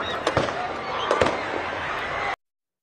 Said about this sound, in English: The sound of gunfire sent players and fans running for cover.